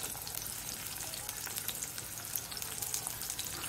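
Thin, long-sliced onions fry in a pan over medium gas with a soft, continuous crackling sizzle, faint and steady throughout, with no one speaking.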